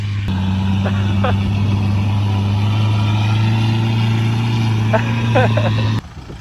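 A Toyota Hilux diesel engine labours and bogs down in soft sand dunes, a loud, steady low drone that barely changes pitch, with brief voices cutting in over it.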